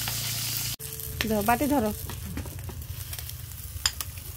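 Native koi fish sizzle steadily in hot oil in a frying pan, a continuous close crackle that runs beneath a brief spoken voice near the start.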